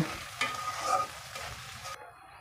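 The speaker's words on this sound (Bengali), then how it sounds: "এখন পেঁয়াজের কুচিগুলো একটু ভেজে নিতে হবে।" Chopped onions sizzle and fry in a pan while being stirred, with soft scraping and crackling under a steady hiss that cuts off abruptly near the end.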